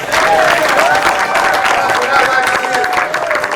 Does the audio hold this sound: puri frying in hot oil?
no